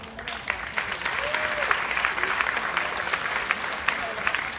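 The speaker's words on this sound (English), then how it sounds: "give us a round of applause" A symposium crowd of salon professionals gives a round of applause: steady, dense clapping from many hands that fills the room at an even level throughout, with some voices mixed in.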